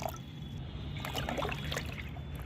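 Water poured into homemade ash fertilizer: a continuous soft trickling and splashing of liquid, with small bubbling drips, steady and close, no talk.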